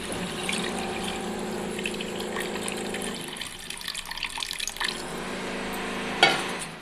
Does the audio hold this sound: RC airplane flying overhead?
no